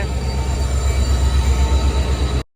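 A diesel-locomotive-hauled train on the Goa to Dudhsagar line rumbles steadily close by, with a deep engine drone and rolling rail noise that cuts off abruptly at the end.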